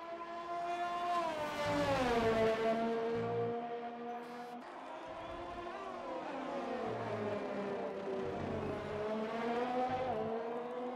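A race car lapping the Hungarian GP circuit in a racing game, its engine whining loudly up and down through the gears with clear pitch sweeps as it accelerates and brakes, heard alone and close.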